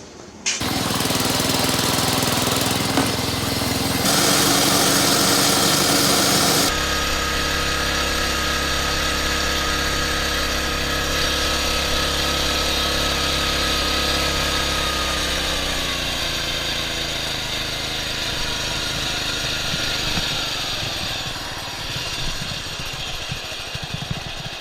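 A hydrostatic riding lawn mower with swapped pulleys on a speed run, its engine roaring loud and close, holding high revs and shifting pitch as it drives, with no talk.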